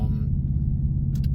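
Steady low rumble inside a moving car on the road, a constant close engine and road drone with a couple of faint clicks near the end, no talking.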